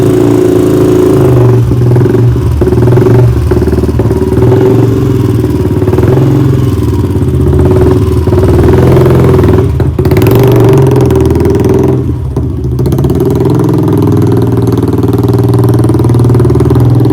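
A motorcycle engine runs continuously and loudly up close, a steady low rumble with some clatter and slight variations, heard alone without talk.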